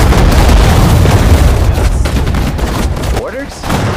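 Infantry gunfire in Sudden Strike 4, a Pacific War battle on Saipan, rolls as a loud, dense fusillade of overlapping shots and booms that barely lets up, with a brief voice near the end.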